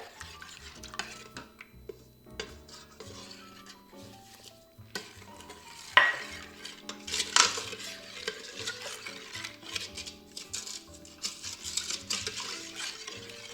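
A spoon stirs starch and sugar into rice pudding in a pot with steady scraping and soft clinks. A sharper clatter breaks in near the middle, and the stirring grows busier toward the end.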